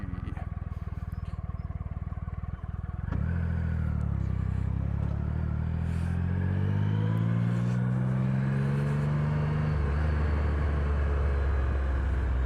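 A Triumph Rocket III motorcycle engine idles with a deep, lumpy rumble, then revs up hard, its pitch climbing and falling before settling back to a low growl.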